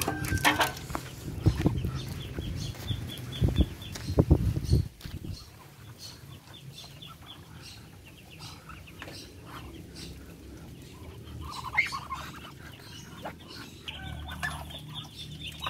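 Two-week-old Muscovy ducklings in their pen, with a burst of loud close peeping and clucking at first, then quieter scattered cheeps over a low background hum.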